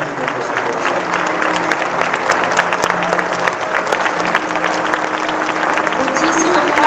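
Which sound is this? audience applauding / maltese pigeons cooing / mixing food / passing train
audience applauding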